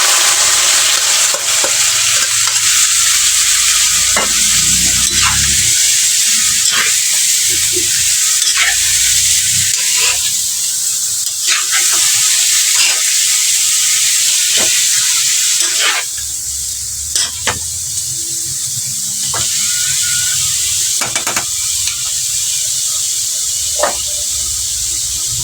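Sliced papaya stirred in a hot cooking pan, sizzling and frying loudly and steadily, with intermittent scraping strokes of a spoon against the pan throughout.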